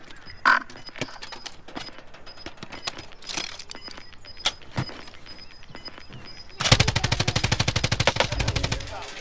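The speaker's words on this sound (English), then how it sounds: "Somebody shooting." Gunfire in Call of Duty: Modern Warfare Warzone rings out as scattered single shots and clicks, then a loud, rapid automatic burst fires a quick string of rounds through the last third.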